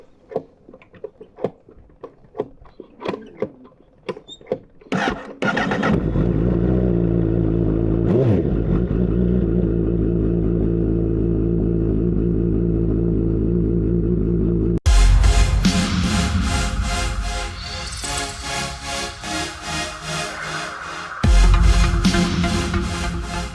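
A Honda CBR1000RR SP1 sport motorcycle starts with clicks and rattles, then idles with a steady engine drone before loud revving and acceleration on the road, the engine note rising close and strong.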